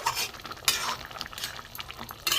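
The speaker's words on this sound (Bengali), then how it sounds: "ঝোল ফুটে গেছে, এবার আমি মাছগুলো দিয়ে দেবো।" Small hilsa pieces slipped into a simmering mustard curry broth with eggplant and potato, giving soft wet stirring and faint sizzling, with light utensil clinks over a steady bubbling bed.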